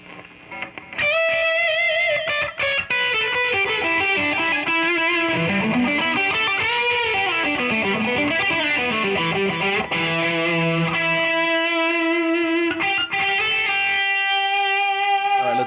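Electric guitar lead lines played through overdrive pedals into a Vox Time Machine delay pedal set to 500 ms, sustained distorted notes with bends and slides ringing out with repeating echoes, loud and alone.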